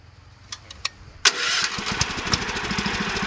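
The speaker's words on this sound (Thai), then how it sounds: "สตาร์ทรถครับ" A riding lawn mower's small engine cranks and catches at once, settling into a steady, close, rumbling idle with uneven sputters, after a few faint clicks.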